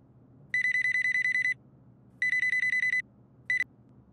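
Outgoing-call ringback tone on a phone, heard as two long pulsed bursts of rapid electronic trills and a short third burst, fairly loud over quiet room noise.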